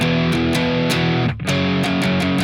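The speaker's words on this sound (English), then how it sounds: "what we'll be doing is allowing the chords to ring out" Loud distorted rhythm guitar chords from a song's outro ring out in a steady strummed rhythm, with a brief dip partway through before the chords resume.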